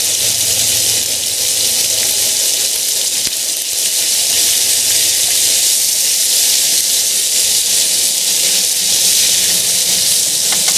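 Vegetables for a keto jambalaya sizzle steadily in a pan cooked outdoors, a constant loud hiss running throughout with no talking.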